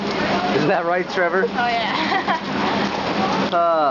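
Rain falling steadily and loud as a canoeing class gets rained out, a dense hiss under two people talking over it.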